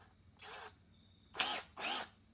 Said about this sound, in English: drill in here, and I'm just going to use it just to put a little bit of a pilot hole in there.